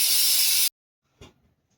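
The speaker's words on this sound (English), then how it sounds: "just let the pressure and steam just go out" Steam hisses loudly from the valve of a pressure canner while chicken broth is being canned, a strong, steady blast that cuts off abruptly, followed by a single dull knock.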